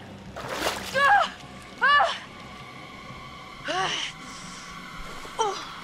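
Splashing through cold water in the video game Until Dawn: four short, loud splashy bursts spaced a second or two apart, each trailed by bright ringing game tones over a low steady background.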